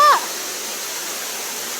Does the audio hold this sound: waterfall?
yes